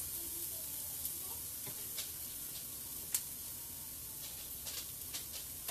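About four garlic cloves sizzle and hiss in a pan over medium-high heat, a steady bright frying crackle with occasional scrapes and taps as the garlic is stirred, close and continuous with no talking.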